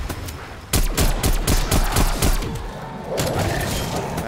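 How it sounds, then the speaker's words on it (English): A run of heavy shotgun blasts in a zombie shooter game, about eight loud booming shots in quick succession, then a lower rumble as the firing stops. "need to stop using the shotgun at long ranges"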